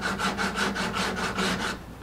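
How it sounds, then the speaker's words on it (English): 80 grit sandpaper rubbed over the wood of a Martin 00 style acoustic guitar in a workshop, about eight rhythmic close back-and-forth strokes. "I think this is 80 grit here. Just smooth it all nice and smoothly."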